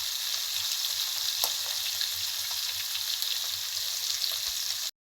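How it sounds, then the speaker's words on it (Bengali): Fish pieces fry in hot oil with a loud, continuous close sizzle that holds steady and then cuts off abruptly. "এখানে আমি মাছগুলো ভেজে নিচ্ছি।"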